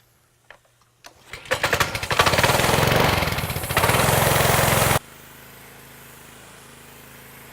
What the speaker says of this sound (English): it's time to get the power washer going and get everything nice and clean.